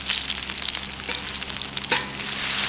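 Eggs fry on an antique Wagner Ware "Fat Free Fryer" cast iron griddle, giving a steady, close crackling sizzle with a few sharper pops, alone without talk.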